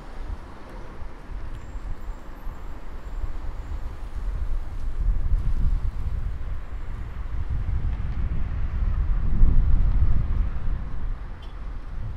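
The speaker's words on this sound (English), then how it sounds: "very windy. I don't know how my mic microphone's going to do." Wind buffets the microphone in low, rumbling gusts that swell and fade for several seconds, on a street in Barranquilla, Colombia.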